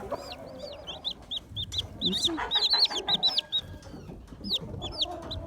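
Silkie hen clucking and chirping among her chicks, with many high peeping calls from the babies close by and a person talking briefly over them.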